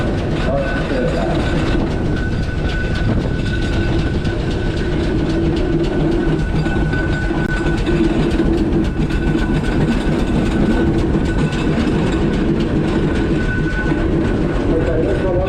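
Steam engines roll past in a steam rally parade at Strumpshaw, giving a loud, close, continuous chugging rumble with rhythmic mechanical clatter that stays steady for about fifteen seconds.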